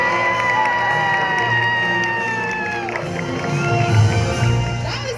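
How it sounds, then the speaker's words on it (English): An arena audience at an animal actors show cheers and shouts loudly and continuously, a dense wash of many voices with children's high yells rising above the roar. "That was some good cheering."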